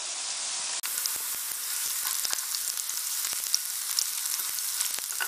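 Garlic and ginger sauté in hot refined oil, a continuous close hiss of frying dotted with small pops and crackles.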